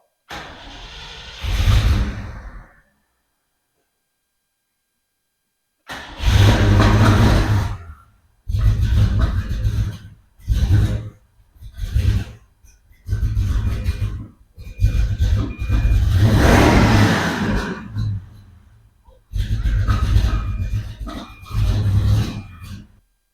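A 1992 Ford Foxbody Mustang convertible with a fresh battery and reworked wiring, its engine cranking and revving in repeated loud bursts separated by short silences.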